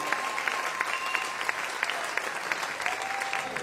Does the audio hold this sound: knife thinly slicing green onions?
no